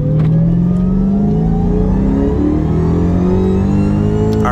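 A tuned Dodge SRT Hellcat pulls hard at full throttle from inside the cabin, its supercharged engine droning loud and steady as the pitch climbs continuously through the rev range without a break.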